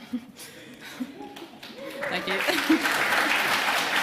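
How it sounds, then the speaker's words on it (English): Workshop audience in a conference room breaks into applause, scattered claps after a short remark swelling into a steady, fairly loud round of clapping over the last couple of seconds, with a speaker's voice at the start. "I didn't think you would actually clap"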